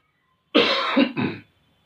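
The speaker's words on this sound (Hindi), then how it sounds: "खांसी आ रही, पानी पी लो।" One person clears their throat harshly, then gives a short cough, close by, followed by silence.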